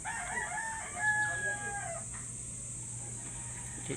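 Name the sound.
birds calling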